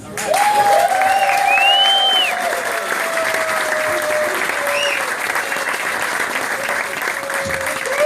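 A live audience at an R&B evening applauds to welcome a singer: dense, sustained clapping from a large crowd that stays loud throughout, with faint cheers and whoops rising over it near the start.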